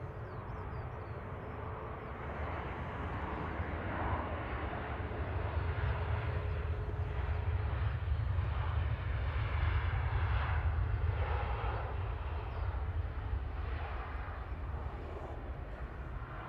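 Airliner climbing away after takeoff, a broad continuous jet roar that swells and then slowly fades as the aircraft heads into the clouds, with no talk over it.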